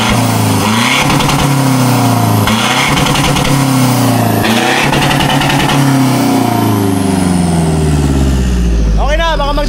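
Big-turbo Toyota Hilux diesel on a short pipe revs hard several times in loud, close bursts, each swell dropping back, with a voice briefly heard near the end.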